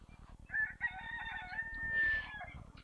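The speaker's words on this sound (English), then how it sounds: "Over there in the other cages, there is chickens and rabbits." A rooster crows loudly among caged chickens and rabbits in Olive Hill, Kentucky, with scattered clucks around it and a steady low rhythmic thumping running underneath.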